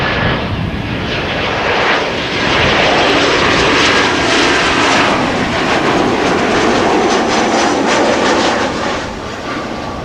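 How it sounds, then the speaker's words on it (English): KLM Boeing 747 PH-CKA, flight 984 arriving from London City, with a loud, sustained jet engine roar that holds steady and fades slightly at the end. "This is KLM flight 984 arriving from London City."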